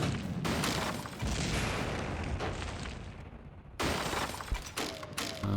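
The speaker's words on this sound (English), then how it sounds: "There goes another ammo explosion." Ammunition exploding aboard a ship in a naval video game, struck by torpedoes: dense, continuous crackling blasts and shattering bursts, loud and close, with a brief lull before another eruption.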